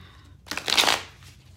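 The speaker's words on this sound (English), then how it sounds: "I just want to do one more shuffle here" A short, close burst of tarot cards being riffled and shuffled, a quick papery flutter that rises and fades within about a second.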